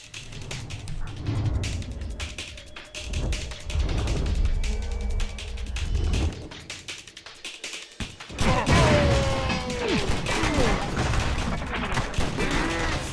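Rapid, dense gunfire erupts during a boss fight in the video game Stranglehold, with bursts of shots, thuds and crashing impacts that grow busier and louder in the second half.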